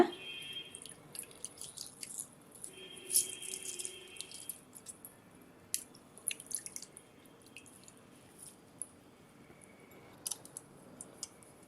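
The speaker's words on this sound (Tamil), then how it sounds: "இப்போயே நம்ம கிடைக்கும் போது இந்த மாதிரி புழிஞ்சு வச்சுக்கலாங்க" Lemons squeezed by hand for homemade nannari sarbath give faint, scattered drips and small wet splashes with occasional light clicks, close but quiet, with no one talking.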